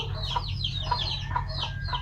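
Chickens on a Filipino backyard farm, a hen with her chicks, cluck in repeated short calls over a steady low hum, close and fairly loud.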